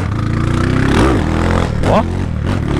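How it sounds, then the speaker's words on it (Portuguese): A motorcycle engine revs hard in first gear, loud and close, its pitch swooping up and down in two distinct surges with mechanical clatter, while someone talks excitedly over it. "Mano, em primeirinha a moto, tipo, é cabulosa, velho."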